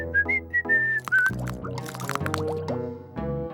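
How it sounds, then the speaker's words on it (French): A short, melodic run of high whistled notes is heard, followed by a busy mix of cartoonish plucks and watery, bubbling effects. "Arrête ces sifflements infernaux."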